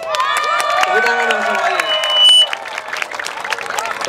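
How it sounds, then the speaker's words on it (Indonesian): A crowd at the MONAS Fair 2013 opening ceremony bursts into scattered clapping and cheering, with sharp hand claps over a bright, busy backdrop that thins out toward the end. "Tepuk tangan dong semuanya"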